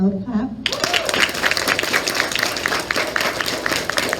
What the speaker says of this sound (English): Can we have a loud clap?